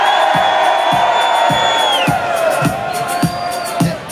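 A concert crowd at a festival cheers and shouts loudly with whoops, accompanied by rhythmic thumping beats and sustained tones from music, a dense roar filling the space throughout.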